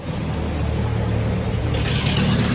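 A loud Honda Raider 400cc motorcycle with methanol injection roars steadily at close range, the dense exhaust drone swelling slightly toward the end.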